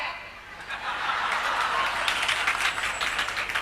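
An audience at a political rally claps in a broad, sustained wash of applause, moderately loud with some scattered laughter.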